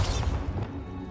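A Bombarda explosion spell cast in the video game Hogwarts Legacy: a loud, close blast with a heavy low-end thud that fills the short moment and then rumbles away. No one speaks.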